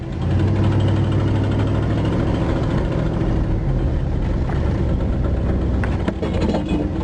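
An Oldsmobile car with a worn tire drives along with its engine running, giving a loud, steady mid-range engine drone and road rumble that continues without a break and has no voices over it.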